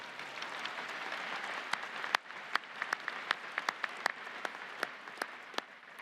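Audience applause at a December commencement ceremony for the platform party, a steady wash of many hands clapping from a large room, with a few sharper individual claps popping out above the crowd as it tapers.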